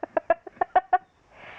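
Several short, clipped clucks from a chicken in quick uneven succession, close by, followed by a soft rustling hiss.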